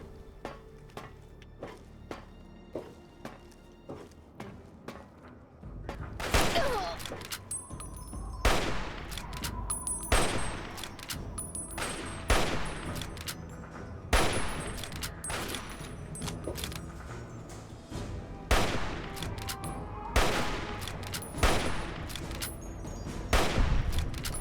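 Gunshots crack out in Fallout: Tale of Two Wastelands, first a run of faint rhythmic ticks, then a series of loud, sharp single shots spaced a second or two apart, some echoing, with no talking.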